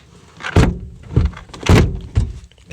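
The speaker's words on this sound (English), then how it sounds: "Let's get inside the car, close the door, and see if it works." A car door with worn, damaged hinges is slammed shut several times in quick succession, four loud close thumps with short rattling tails, no talk.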